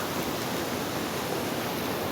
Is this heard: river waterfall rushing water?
yes